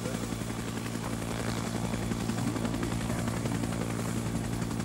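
Helicopter in the military game ARMA 3, a steady loud rotor thrum and engine whine that carries on without a break through the whole stretch, with no talk over it.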